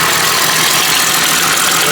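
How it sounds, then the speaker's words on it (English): An idling 4.0 engine with an exhaust leak gives a loud, steady, close-up rumble with a raspy, ticking rattle running through it. "a little bit of exhaust leak."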